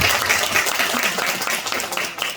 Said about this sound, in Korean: 나같이 박수